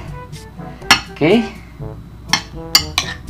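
A spoon stirs warm congee oatmeal in a cup at home, giving a few close clinks and scrapes against the cup, with a short burst of louder clatter partway through and a brief spoken word.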